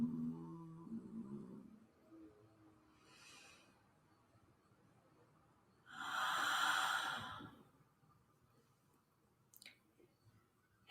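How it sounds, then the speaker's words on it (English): A deep yogic inhale during a chakra yoga flow comes as one long, airy breath in the middle of near-silence, with faint murmurs and a soft click around it. "Deep inhale."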